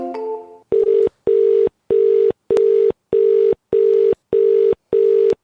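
Phone call being placed: a brief cluster of dialing tones, then a steady sequence of about eight loud, evenly spaced ringback pulses with short silences between them, and no voices.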